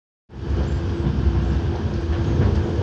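Steady rumble and rattle of a train carriage picking up speed after leaving a station, heard from inside the car as a continuous loud roar with low clatter throughout, no talking.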